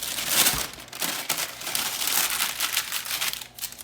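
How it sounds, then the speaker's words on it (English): Cookie dough for German vanilla almond rolls being unwrapped from its wrapping, giving steady, close crinkling and rustling with brief tearing-like bursts throughout, with no talking. "I'm unwrapping the dough and cut it in half."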